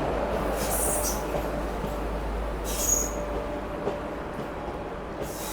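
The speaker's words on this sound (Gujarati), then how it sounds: "લાઇટિંગ વાળી છે ટ્રેન." A lit-up passenger train at a railway crossing, heard from a bridge above, rumbles steadily with a continuous heavy roar and a few faint metallic squeals over wind noise, no voices.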